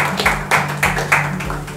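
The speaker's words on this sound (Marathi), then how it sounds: "ताईंसाठी एक वेळा जोरदार टाळ्या होऊ द्या मित्रांनो." Applause for a student who answered correctly in an exam-coaching class, made up of loud, rhythmic claps that sound like a small group or a single pair of hands, with a steady hum underneath.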